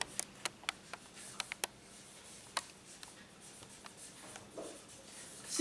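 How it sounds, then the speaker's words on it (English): Pen on paper writing out a single word in cursive: quiet, close, irregular ticks and light scratches spread over several seconds, with no talking. "See, for example, I write one word."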